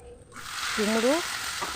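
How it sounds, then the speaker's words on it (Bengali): Raw green pumpkin is tipped into spices and onion frying in oil, and a broad hiss suddenly rises into a steady sizzle while a voice speaks briefly over it. "কুমড়োটা একটু মশলার সঙ্গে উল্টে পাল্টে নেড়ে নিচ্ছি।"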